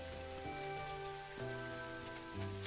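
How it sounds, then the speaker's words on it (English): Steady rain falls in the video game Dinkum, a soft continuous patter on surfaces heard alone under layered game music tones. "should I not be coming on a rainy day?"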